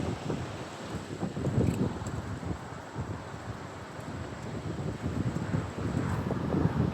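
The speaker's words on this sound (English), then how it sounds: "The wind's blowing pretty hard out here." Strong gusts during a winter windstorm roar across an outdoor microphone, a loud, rough, continuous rumble that surges and eases over several seconds, with no talk.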